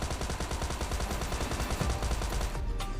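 Gunfire from a survival shooter video game comes as rapid automatic bursts, dense and loud, with rhythmic repeated shots running continuously before a short drop-off at the very end.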